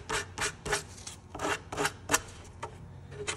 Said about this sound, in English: Going to take my sandpaper and I'm just going to put a little bevel on this rail